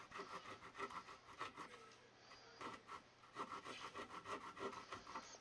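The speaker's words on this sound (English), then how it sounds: "it's not as easy to control as you can with this handheld drywall saw" A handheld drywall saw cuts through drywall for a PEX plumbing job, making a quiet, rhythmic rasp of back-and-forth strokes with short pauses between bursts. No one speaks over it.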